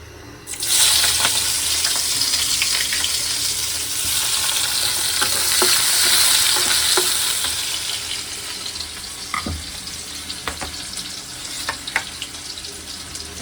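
Beef frying in a hot pan on a gas stove, a steady loud sizzle that swells and settles, with occasional clinks and stirring scrapes in the latter part.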